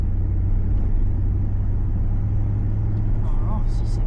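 Deep steady rumble of a Jeep SRT8 V8 engine pulling onto an expressway, loud and continuous from inside the cabin, with a voice talking briefly over it near the end.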